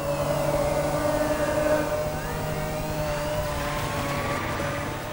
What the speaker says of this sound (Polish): Okej, mamy tu śmigłowiec.